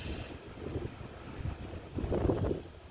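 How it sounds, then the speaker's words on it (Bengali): A cool night wind blows outdoors in Sylhet during a lightning storm, buffeting the microphone with a steady low rushing roar and no one speaking. "সুন্দর ঠান্ডা বাতাস"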